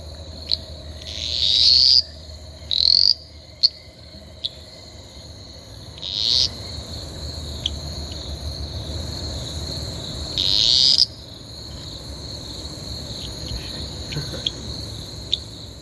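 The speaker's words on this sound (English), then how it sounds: "I'm only about half a metre away from some of these calling Latoria phalanx." Small green Litoria fallax tree frogs call at night from about half a metre away, giving loud bursts of high, rasping calls at irregular intervals over a constant background chorus of insects and distant frogs.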